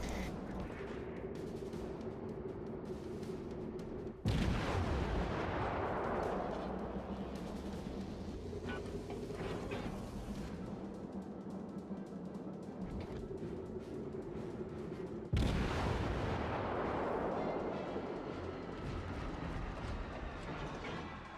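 Rapid-firing deck guns of the Japanese cruiser Kuma in World of Warships, two heavy booming salvos with long rolling rumbles and a continuous low mechanical drone between them, loud and close.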